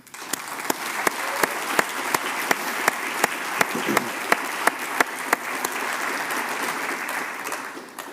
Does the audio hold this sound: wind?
no